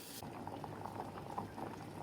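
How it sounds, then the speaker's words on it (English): Water at a steady rolling boil in a pot for cooking rice, a continuous bubbling and gurgling with small pops, close by and moderately loud, no voices. "Now we're going to boil the pot so that we can cook the rice."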